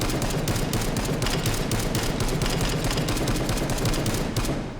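A SCAR rifle in the virtual reality game H3VR fires semi-automatic shots with the silencer removed, a loud, rapid string of close, sharp cracks packed tightly together and continuing for several seconds before cutting off.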